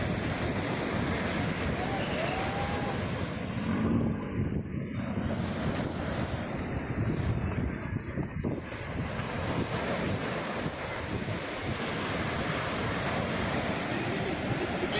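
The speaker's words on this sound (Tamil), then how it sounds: "speed boat" Waves washing ashore at Alappuzha beach in Kerala with heavy wind buffeting, a steady loud roar of surf; a speed boat engine is not clearly distinct beneath it.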